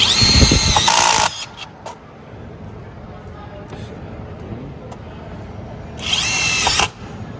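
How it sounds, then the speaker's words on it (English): A cordless impact driver in auto mode drives a sheet metal screw, heard as two short loud rattling whirrs that cut off when the screw head seats, with quieter background chatter between them. "if you have an auto mode in forward, it'll automatically stop when the head of the fastener seats on the metal"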